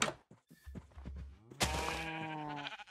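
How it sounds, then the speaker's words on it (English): A sheep bleats in Minecraft inside a snowy-biome base, one long wavering bleat following a few low thumps, close and clear with no talking. "there's a sheep in the wall"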